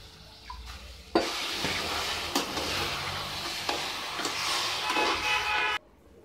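Water poured into a hot pan of sugar to make syrup for a potato halwa, a sudden loud hiss and sizzle that bursts in and continues steadily with faint stirring scrapes, then cuts off abruptly.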